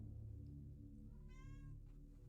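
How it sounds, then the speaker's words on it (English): Pet cat meows once indoors, close and fairly quiet, a single short rising-and-falling cry over a low steady background hum. "You always have to come in here and meow when I'm trying to stream."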